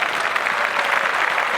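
A short burst of steady applause from a crowd, many hands clapping evenly at moderate loudness with no voices over it.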